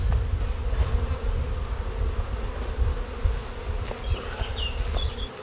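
Honeybees buzzing around a hive in spring, a steady dense drone of many wings close by with individual bees passing nearer, and no talking.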